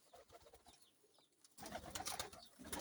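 Pigeons in a coop at a Kenyan kienyeji chicken farm coo softly in the first half, then a denser burst of bird calls and rustling grows louder near the end, with no talk.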